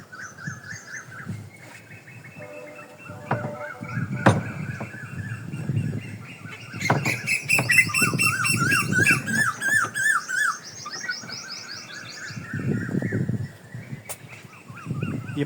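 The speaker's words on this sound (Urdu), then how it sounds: "یہ پرندوں کی آواز آپ لوگوں کو سنائی دے رہی ہوگی ہے، یہ تو گاؤں کی شان ہے۔" Birds chirp and trill in a rural village, repeated bright calls overlapping close by, with scattered low thumps and rustles underneath and no talking.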